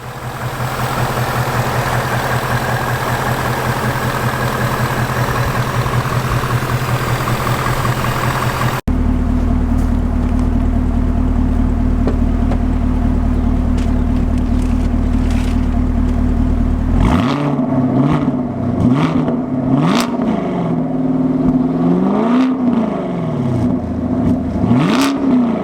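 A 2018 Ford Mustang GT or 2018 Chevy Camaro SS V8 heard mostly through its exhaust, first a loud steady idle, then a deep rumbling idle, followed by several rising and falling revs, close and loud.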